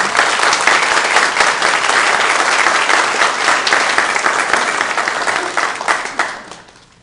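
An audience applauds to welcome speaker Rita Marie at a morning gathering, steady close clapping from a crowd sustained for several seconds before fading out at the end.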